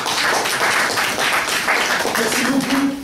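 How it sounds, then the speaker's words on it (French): An audience at a public talk applauds with dense, steady clapping throughout, and a voice murmurs briefly under it near the end. "On pourrait l'applaudir quand même, hein."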